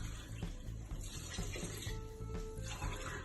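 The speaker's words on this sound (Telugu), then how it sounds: "దానికి తోడు ఇంకొక 2 గ్లాసుల వాటర్ వేసుకుంటున్నాము" Water pours steadily into a cooker holding rice and spinach paste for a spinach biryani, a continuous close-up gush and splash with faint clinks, and no talk over it.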